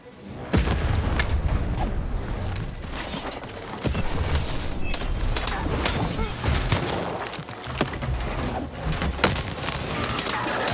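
A cannon fires in the video game Lost in Random, with repeated booming blasts and crashing impacts spread across a dense, loud stretch of game action and music, with brief spoken voices mixed in.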